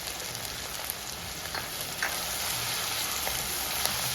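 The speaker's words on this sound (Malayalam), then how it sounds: "അതിലേക്ക് നമ്മൾ ചതച്ച് വെച്ചിരിക്കുന്ന ഇഞ്ചിയും വെളുത്തുള്ളിയും പച്ചമുളകും കൂടെയുള്ള കൂട്ട് നമുക്ക് ഇട്ട് കൊടുക്കാം." Crushed ginger, garlic and green chilli frying in coconut oil for a Kerala-style soya roast, a steady bright sizzle that runs unbroken at close range with a few faint stirring clicks and no talk.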